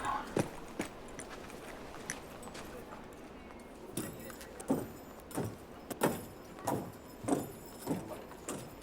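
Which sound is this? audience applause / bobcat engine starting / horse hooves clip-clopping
horse hooves clip-clopping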